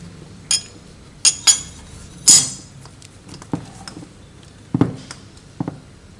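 Metal parts of a car power-steering kit, a bracket and two bolts, clink and knock together in a few sharp, separate bursts close by, with quieter handling noises in between.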